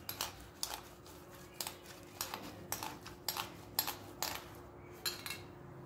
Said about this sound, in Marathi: आता हे किसून घ्यायचे आहेत। या प्रकारे सर्व बटाटे हे किसून घ्यायचे आहेत।